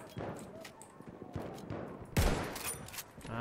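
Gunfire in the video game Battlefield 1, with scattered shots and one louder blast near the middle over a busy battle background, under faint game noise.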